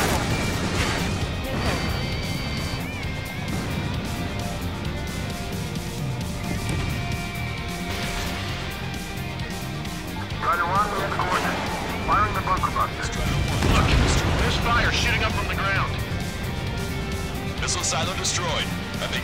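Missile silos blowing up in Ace Combat 7 during the Bunker Bust mission, deep booming blasts and crashes under a jet's drone while radio voices talk over the action.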